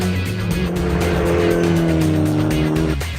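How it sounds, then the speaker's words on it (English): A Mitsubishi Evo X drifts through a race-track corner out toward the rumble strips, its engine droning loud and steady in third gear while the tyres squeal continuously, the note dipping briefly near the end. "Just a gentle drift all the way out to the rumble strips."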